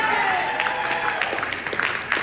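A small audience at a live talk breaks into brief applause and scattered cheers, a short burst of clapping over a steady room ambience.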